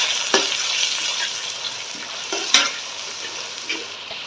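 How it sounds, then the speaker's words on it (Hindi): Fish frying in spice masala for a fish and potato curry sizzles steadily in a pan, with a few sharp scrapes and clinks as it is mixed, close and moderate in level, with no talking. "तमाम मसाले को अच्छे से भून लें"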